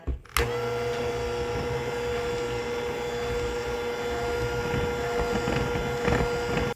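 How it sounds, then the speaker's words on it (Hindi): An electric hand mixer beats chocolate ice cream mix with cocoa powder at low speed, a steady close whirring motor drone that starts abruptly after a short click and runs continuously with faint rattling against the bowl. "और अब इसको मैं फिर से बीट करूंगी। अभी स्टार्ट में हम इसको बिल्कुल लो स्पीड पे रखकर बीट करेंगे"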